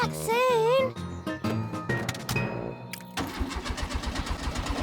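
A cartoon car engine tries to start and fails, first a wobbly whining tone, then sputtering and cranking bursts that settle into a rapid rhythmic chugging, close and fairly loud.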